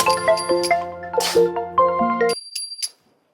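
A melodic phone ringtone plays a bright chiming tune, then stops abruptly, leaving a few faint tones before silence.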